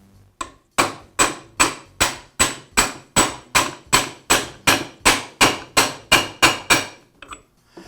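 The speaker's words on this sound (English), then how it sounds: "And once again, I'll use a socket to tap it into place." A socket is used as a drift to tap a ball bearing into a DeWALT chop saw gearbox: about fifteen sharp metallic hammer strikes land in a steady, even rhythm, close and loud, with no talking.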